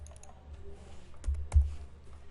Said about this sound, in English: type these coordinates in your program so it matches what you see on the screen